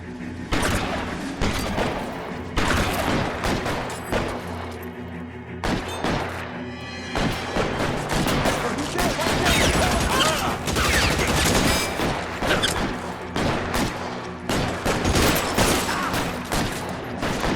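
Rapid, loud gunfire from a police shootout in the L.A. Noire video game, volleys of shots and thuds crackling almost continuously, with a voice briefly heard underneath.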